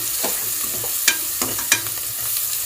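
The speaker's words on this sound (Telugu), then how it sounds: "పసుపు వేసుకుందాం. మంచిగా కలుపుకోవడమే." Drumstick gravy simmers and sizzles in a pan as turmeric is stirred in, a steady hiss broken by a few sharp spoon scrapes and clinks against the metal.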